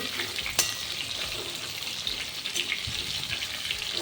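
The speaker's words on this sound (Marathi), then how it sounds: "मोठ्या गॅसच्या फ्लेमवर आपल्याला दोन मिनटं हे वांगे परतून घ्यायचे आहेत तर मी आता हे वांगे छान परतून घेते" Eggplant pieces sauté in a wok over a high gas flame, giving a steady, close sizzle and crackle throughout with occasional sharper spatters and stirring scrapes.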